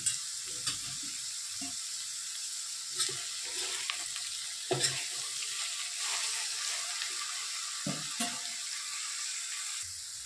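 Cauliflower and beans fry in a pan of hot oil, giving a continuous close sizzle broken by a few sharp clatters of stirring, with no talking.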